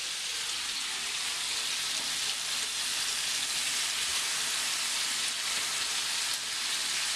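Shrimp sizzle steadily in a hot pan, a constant crackling hiss without pause at moderate volume.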